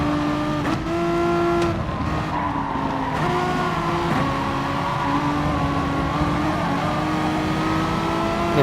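Gran Turismo Sport race cars, a Toyota among them, scream past with high revving engines, shifting pitch and squealing tyres, a dense continuous wall of loud engine noise with brief gear-change dips.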